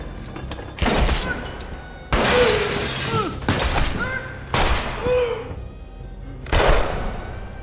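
Pistol gunshots ring out in a film scene, about four loud, sharp bangs spaced a second or two apart, each trailing off into a brief echo.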